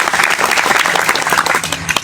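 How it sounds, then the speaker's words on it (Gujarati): Applause from the audience at a large Koli community gathering in Bhavnagar, dense and steady clapping close by for the whole stretch, with no voices over it. "ટીમને પણ આપણે તાળીઓથી વધાવી લઈશું"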